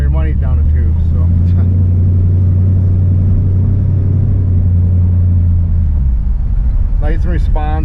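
A 1953 Oldsmobile 98 four-door sedan, custom-built with a 455 cubic inch engine, rumbles steadily from inside the car with a deep low drone, while someone talks over it at the start and end.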